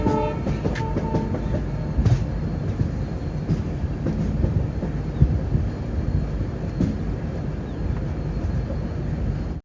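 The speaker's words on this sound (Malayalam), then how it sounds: "ഞങ്ങളിപ്പോൾ സോളാപൂർ റെയിൽവേ സ്റ്റേഷനിലേക്ക് ട്രെയിൻ എത്തിക്കൊണ്ടിരിക്കുകയാണ്" The Siddheshwar Express rolls toward Solapur station, heard from inside a 3AC coach as a steady low rumble with rhythmic clickety-clack of wheels over rail joints and occasional knocks.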